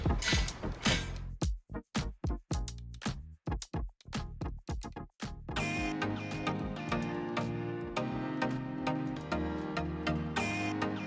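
A hand ratchet tightens hex bolts on a racing seat bracket, first in sharp, separate clicking strokes, then in a fast, dense run of ratcheting clicks, close by with no talking.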